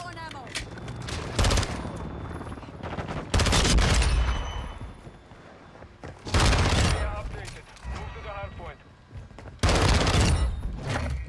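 Modern Warfare 2 gameplay with a VEL 46 gun: repeated bursts of rapid automatic fire, some close and loud, some quieter, with a voice talking in between.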